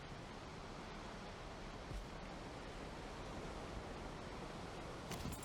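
Ocean waves surge and wash continuously in the video game Valheim, a steady close roar of surf with a few louder swells breaking near the end.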